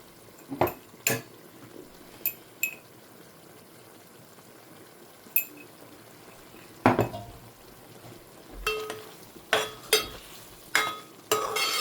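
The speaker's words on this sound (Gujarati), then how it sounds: "બધાને મિક્સ કરી નાખવાનું સરખી રીતે" A spoon clinks and scrapes against a metal pot as spices like garam masala and salt are stirred into food, irregular knocks and scrapes close by.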